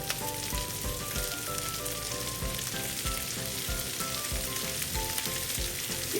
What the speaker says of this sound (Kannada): ಇವಾಗ ಶ್ರಿಂಪ್ ಆ್ಯಡ್ ಮಾಡ್ಕೊತಾ ಇದ್ದೀನಿ.